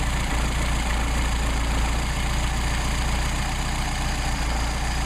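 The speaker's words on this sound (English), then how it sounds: "So you can hear it start to drop off in idle." A Mercedes-Benz 190SL engine with Solex carburetors idles steadily during carburetor tuning, a close, continuous low rumble that stays even throughout with no voices.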